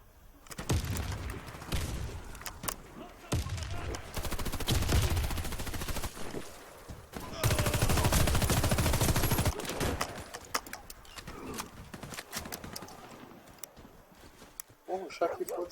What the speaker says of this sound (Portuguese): O cara descarregou a arma dele bem onde eu tava.